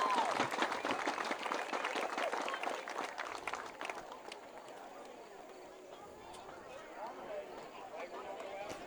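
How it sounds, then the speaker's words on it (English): Crowd applause for senior players at a high school football senior night, clapping strongest at the start and fading to a lighter patter, with an announcer talking over it. "Let's hear one last round of applause for all these seniors and the hard work that they contributed to our football"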